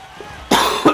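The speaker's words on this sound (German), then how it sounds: "entschuldigt das Husten, ich bin immer noch leicht erkältet" Two harsh coughs from a man with a lingering cold, loud and close, the second following shortly after the first, over faint steady background noise during a hockey video game.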